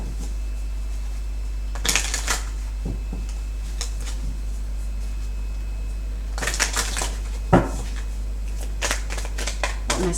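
Tarot cards being shuffled by hand in a quiet room, with several short riffling bursts and soft card slaps separated by pauses, close and fairly crisp over a low steady hum.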